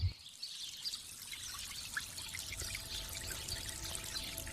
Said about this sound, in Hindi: झरने की मधुर ध्वनि